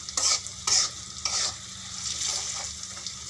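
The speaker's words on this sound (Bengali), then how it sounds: "লবণ হলুদ সব কিছু দিয়ে নিলাম দিয়ে একটু ভালো করে মিক্স করে নেব" Malabar spinach curry with salt and turmeric is stirred in a frying pan, giving soft scraping strokes over a low, steady sizzle, close and quiet with no talking.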